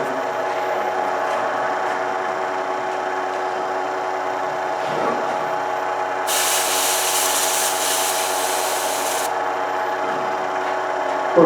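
Sanding a ring on a lathe up to about 1500 grit, a steady, continuous rubbing hiss with a brief burst of louder spray-like noise midway.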